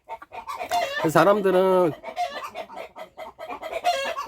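Ogol black-boned chicken, a variety with grey-black beak, claws, comb and skin, clucking and calling with a loud, drawn-out squawk in the middle, close by while someone talks over it.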